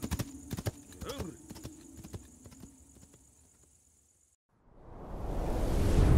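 Horse hooves gallop in a Polish audio drama sound effect, a fast, close clip-clop rhythm for about four seconds, then a cut to a rising wash of noise.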